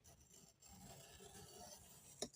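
A knife blade rasps and scrapes through cardboard on a paper-bag craft project, a close, quiet, continuous rubbing with a small sharp tick near the end.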